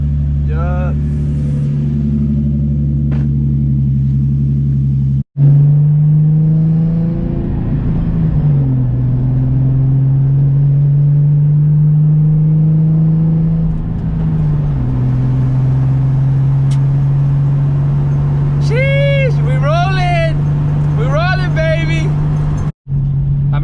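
Nissan 350z engine idling after upper oil pan work: a loud, steady low hum with a small dip in pitch midway, joined near the end by a brief voice.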